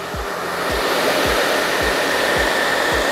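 A hair dryer set to high heat blows steadily and loudly while drying and straightening human hair, with a low rhythmic thump about every half second under the continuous rush of air.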